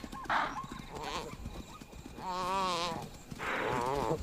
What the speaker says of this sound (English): The chaser can hear the desperate bleat of a topi.